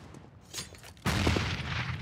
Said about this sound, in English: Nades being exchanged through mid.